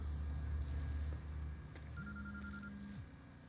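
A phone rings in the video game Quantum Break, a short electronic tone rising and holding for about a second over a low ambient game rumble.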